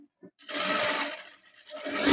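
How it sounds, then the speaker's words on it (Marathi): An electric sewing machine runs a double line of stitching on a boatneck blouse in two close, fairly loud bursts of rapid whirring, separated by a brief pause. "ह्या पद्धतीने आपण शिलाई मारलेली पुन्हा डबल एक शिलाई मारून घेतोय."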